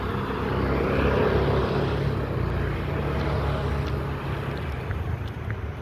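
Airplane passing overhead on a trip in Melaka, Malaysia, a steady broad engine roar that holds loud throughout with wind buffeting, no talking.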